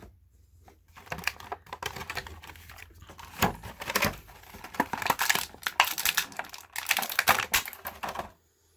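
Plastic blister packaging of a Marvel Legends Green Goblin action figure being cut and pried open, a run of close, sharp crinkling, snipping and tearing clicks in uneven bursts, with no talking.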